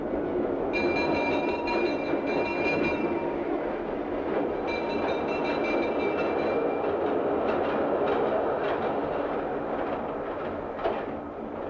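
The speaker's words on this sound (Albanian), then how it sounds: "Kjo është metroja numër 3." An underground mine train rumbles steadily along its rails in a 1982 mine setting, with continuous loud wheel noise, rhythmic clatter and high metallic squeals rising at intervals.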